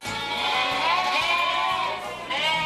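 Several twin lambs bleat in overlapping, wavering cries, close by and fairly loud, with a low pulsing rumble underneath.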